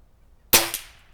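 A single sharp crack from an HW97K air rifle fired at a target about 25 away, loud and close, followed by a brief ringing decay and a faint second knock, with silence before it.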